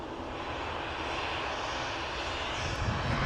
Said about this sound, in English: Flight 75 coming in from Abu Dhabi A6BLN.